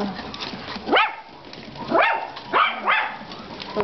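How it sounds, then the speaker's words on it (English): Yorkie puppies bark in short, high yips while playing, four quick barks spaced unevenly over soft background noise, fairly close. "that's got barking right there"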